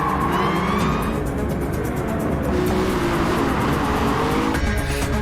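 A BAC Mono race car from Gran Turismo 7 roars continuously at high revs with tire squeal and a shift in engine pitch near the end, loud and sustained throughout.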